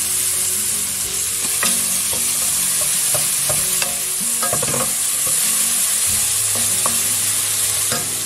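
Pork neck pieces frying and being stirred in a pan outdoors, a loud, steady sizzle with scattered scraping clicks from the stirring, no talking.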